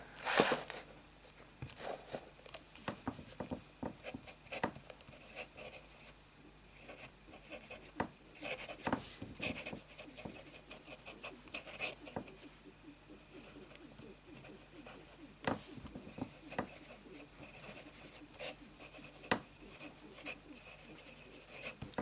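A Parsons Essential fountain pen with an italic nib scratches and rubs softly across paper, with quiet irregular strokes, small taps and pauses between words.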